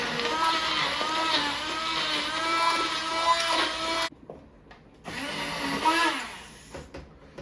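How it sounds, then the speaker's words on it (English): An immersion blender whirs through chunky potato soup, a loud close motor drone with a shifting pitch. It cuts off for about a second, then starts again for another burst. "the immersion blender is really much easier"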